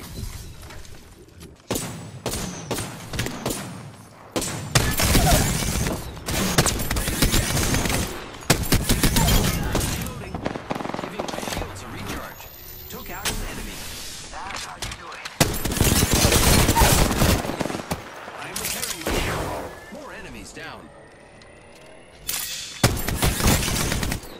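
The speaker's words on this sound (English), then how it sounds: "I am taking fire" Heavy gunfire in a shooter video game, with loud, dense automatic bursts and sustained volleys broken by short pauses, and a player's voice speaking now and then beneath the shooting.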